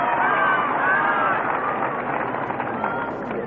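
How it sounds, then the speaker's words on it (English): Crowd at the 1977 Australian Open tennis final cheering John Lloyd, a steady broad wash of applause and crowd noise that holds at an even level throughout. "And the crowd warming to the task of cheering John Lloyd on"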